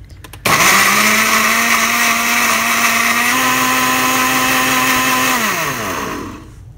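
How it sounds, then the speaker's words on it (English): Blender whirring loudly as it purees pepper sauce with cucumber, starting abruptly with a steady high motor drone that holds for several seconds, shifts pitch slightly, then winds down at the end. "I'm going to blend this all together"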